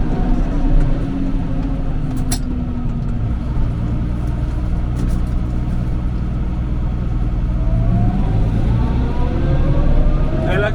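A tractor pulling a SIP Orion 70 ALP manure spreader across a field: a loud, steady low engine rumble and drone with faint mechanical whine, continuous and close, with someone talking over it.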